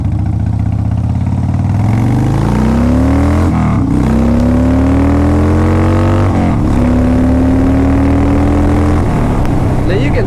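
A 2005 Harley-Davidson Dyna Super Glide being ridden, its engine note rising through tall gears in long pulls with brief dips at shifts, loud and close with wind roar, a voice talking over it.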